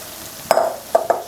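Chopped roti is stirred into egg frying in a pan, with three quick metallic clinks of a utensil against the pan over a faint sizzle.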